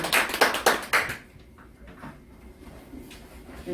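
A short burst of hand clapping from members at a civic group's general assembly approving a motion: a handful of sharp, close claps for about a second, then fading into quiet room noise.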